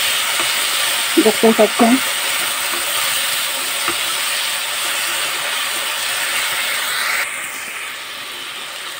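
Drumstick (sajne) leaves frying in a pan give a steady, close sizzling hiss throughout, with a brief voice speaking early on and the sizzle easing slightly near the end.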